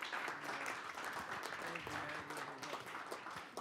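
An audience at a school district board meeting gives sustained applause for award recipients, a dense crowd clapping that stays steady from start to finish while some voices mix in underneath.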